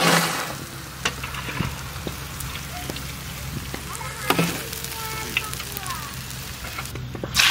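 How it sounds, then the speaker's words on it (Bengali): Fish frying in mustard oil in a large village cooking pot, a steady dense sizzle with occasional louder spits and pops, fairly close and continuous, with no voices. "ভাই লাল লাল করে ভাজছি একদম।"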